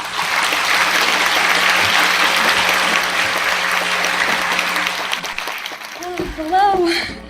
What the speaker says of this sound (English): let's welcome the charming Mimi Quick with a big round of applause.